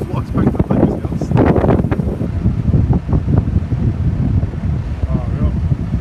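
Strong gusty wind buffeting the microphone outdoors during a large tree removal, loud rumbling bursts rising and falling throughout, with people talking underneath.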